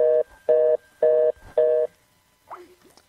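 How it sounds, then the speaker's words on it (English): A telephone line tone plays after calling a phone number: four evenly spaced, loud beeps about half a second each, followed by a brief faint warble and then near silence. "That's the sound of what happens when you call this phone number"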